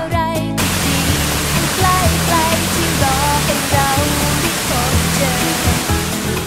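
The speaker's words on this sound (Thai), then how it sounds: "นั่นก็คือน้ำตกตาดโตนแห่งนี้ครับ" Tat Ton waterfall in Chaiyaphum, Thailand, a wide cascade about six metres high, roars with a dense, constant rush of falling water; faint tonal sounds and birdlike chirps sit beneath the spray.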